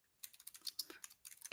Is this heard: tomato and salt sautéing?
no